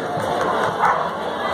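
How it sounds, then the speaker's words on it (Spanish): Crowd at a dog show cheers and applauds for a boy handler, a broad, steady wash of clapping and shouting voices with a brief swell partway through. "Un aplauso, papás, para el niño."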